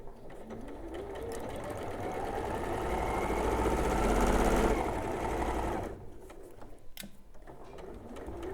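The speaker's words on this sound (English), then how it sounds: "we're just going to sew to the pin" A sewing machine stitches a drawstring tote bag, its motor whirring in a steady, rapid run that swells louder mid-seam before stopping abruptly, followed by a few light clicks.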